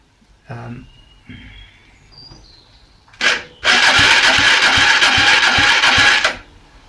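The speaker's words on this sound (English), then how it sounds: "as you heard, she did turn over on the starter" A Honda CG125 motorcycle engine turning over on its starter motor, a loud steady rapid cranking whir lasting about three seconds, close up, after a brief whine and a few quiet clicks and knocks.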